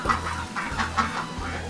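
A chicken clucks repeatedly nearby in short rhythmic bursts, with a low steady hum running underneath.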